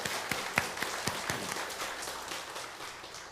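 A church congregation claps together during a Sunday sermon, scattered sharp claps opening into a fading patter of applause at moderate distance.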